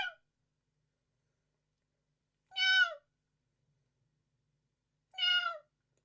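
A voice imitates a poisonous sting with three short, high, sliding squeals, each separated by a long silent rest, faint and isolated.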